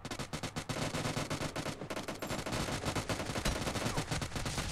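Rapid automatic gunfire in the BGMI gun game mode, loud and close, with rhythmic bursts of shots continuing almost without pause and a brief gap partway through.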